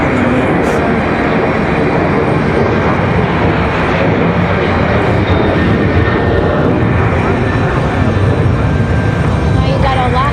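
A United Airlines airliner in Star Alliance livery moves at Raleigh-Durham International Airport on a windy day, its jet engine a loud, broad, steady roar that holds for a long stretch, with wind rushing around it.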